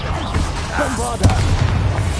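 A Bombarda blasting spell in Hogwarts Legacy lands as a single loud boom about midway, with a low rumbling tail, following a voice talking briefly.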